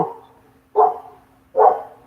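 Neighborhood dogs outdoors give a few separated barks, a trailing one followed by two strong, clear barks at a steady pace, heard alone in a quiet yard.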